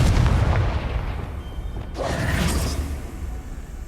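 A Confringo fire spell in Hogwarts Legacy goes off as a booming blast with a whooshing rush, followed by a second swelling burst and rumbling tail, loud and close in the game world.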